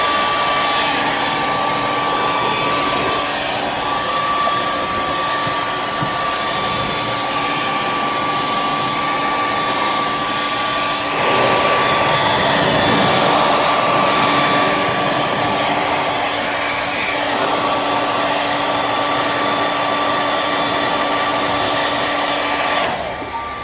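A cheap handheld hair dryer heats paint protection film during installation on a Porsche GT3 RS, giving a loud, steady whirring blow that runs unbroken for over twenty seconds.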